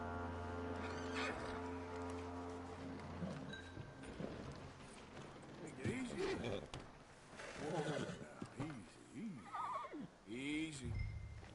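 A horse in the video game Red Dead Redemption 2 gives a few snorts and a long shaky whinny, following a sustained droning tone and some spoken dialogue, with soft hoof movement at mid-distance.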